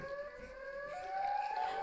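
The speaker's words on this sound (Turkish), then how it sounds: "Ayrıca şu sireni keser misin?" A faint, steady wailing siren slowly rises in pitch, sustained through the whole stretch at low level alongside soft background noise, heard in a children's play with a siren-head character.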